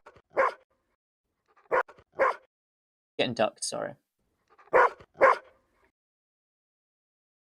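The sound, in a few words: dog barking, recorded samples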